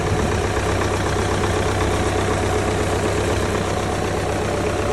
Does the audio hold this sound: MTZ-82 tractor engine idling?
yes